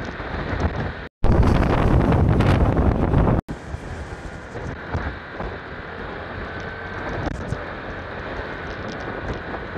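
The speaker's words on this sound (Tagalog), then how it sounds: "Lakas ng hangin." Strong wind roars against the microphone at sea aboard a motor boat. Heavy buffeting gusts come through loud and close, with a brief cut partway through and a steadier rushing hiss afterward.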